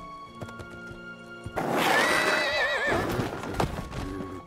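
A horse in LEGO The Lord of the Rings video game lets out a loud, wavering neigh, surrounded by game sound effects and hoof clip-clops.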